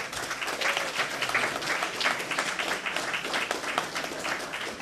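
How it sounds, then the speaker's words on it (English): Steady audience applause for a reader at a literary festival, many hands clapping in a full, continuous patter at constant loudness throughout. "so you can give Billy a round of applause there, folks"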